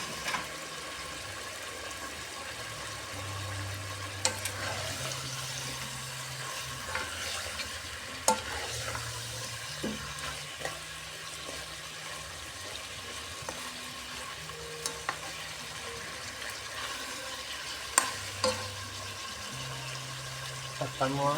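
Chicken adobo sizzles and fries in a pan while being stirred now and then, a soft continuous crackle with occasional clinks, under intermittent talk.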